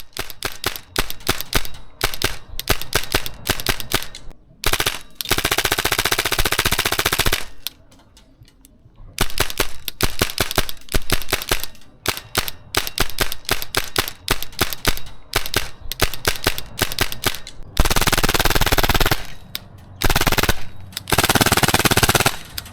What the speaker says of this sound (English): there's something satisfied about emptying a mag with that much noise and recoil